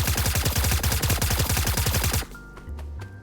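An ASVAL rifle fired in the video game Escape from Duckov: a fast, steady string of loud automatic shots for about two seconds, then it stops and quieter game sounds and tones take over.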